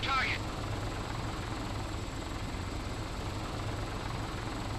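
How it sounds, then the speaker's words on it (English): A helicopter in the video game Arma: Cold War Assault drones steadily with a continuous rotor and engine rumble, even and unbroken, after a brief high chirp at the start. "The chopper will roll down the hill."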